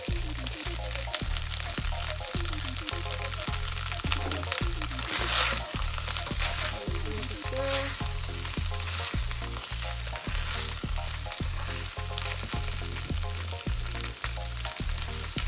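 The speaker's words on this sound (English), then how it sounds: "So now I'm going to add the diced carrots." Diced carrots go into a pan of frying beef mince for homemade lasagna, and a steady, close sizzle continues throughout with a rhythmic scraping as the mixture is stirred.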